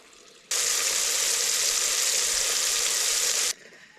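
Eel-tailed freshwater catfish pieces dropped into hot oil, a few at a time, setting off a sudden loud, steady sizzle that runs about three seconds and then cuts off, no talking.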